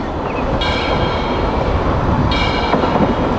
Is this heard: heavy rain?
no